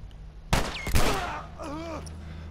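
Two loud gunshots from The Last of Us ring out close together near the start, each with a sharp crack and a fading tail, followed by game sounds over a low background hum.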